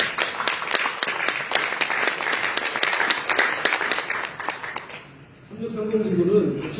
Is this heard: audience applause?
yes